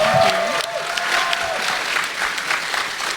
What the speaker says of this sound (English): Let's give one final round of applause to the best Power Rangers cast